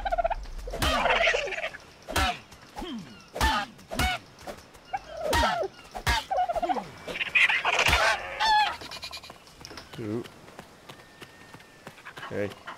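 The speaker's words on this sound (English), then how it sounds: "Not a problem, just get more ducks." Repeated honking, gobbling duck calls from the game Ark Survival Evolved, a series of loud bursts spread irregularly across the clip, with a person talking between and over them.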